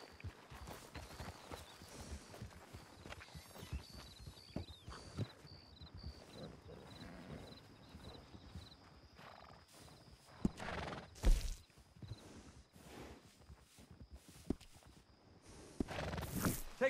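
A horse in Red Dead Redemption 2 clip-clops with irregular hoofbeats and lets out whinnies, moderately close, with scattered louder thumps and quieter stretches between the sounds.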